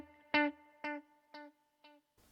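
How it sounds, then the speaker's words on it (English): A guitar played through a stereo tape echo delay on a Fender Tone Master Pro: one sustained note followed by three fading repeats at a steady interval, each quieter than the last, with no talk. "So effects, delay, we'll go with stereo tape echo."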